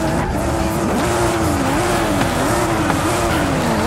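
Racing cars in a night street-racing video game, a continuous engine drone with a wavering pitch and squealing, skidding tires, loud and steady with no break.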